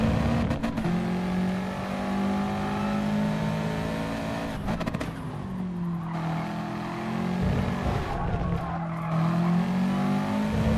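A Subaru WRX lapping Brands Hatch Grand Prix Circuit in GT Sport, its engine droning loudly and continuously with rising and falling revs through gear changes, plus bursts of tyre squeal in the corners.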